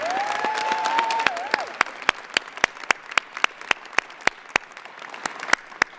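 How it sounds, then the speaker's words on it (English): Award finalists at a Greater Rochester Chamber of Commerce event receive applause from the audience. Steady clapping fills the room, with a few sharp louder claps standing out, and no talking. "All our Athena finalists, please give them a round of applause."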